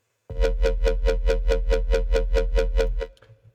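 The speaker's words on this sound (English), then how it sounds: "This is our bass noise" A buzzy, distorted synthesizer bass note pulses in a steady, even rhythm for about three seconds, loud and upfront, then cuts off abruptly.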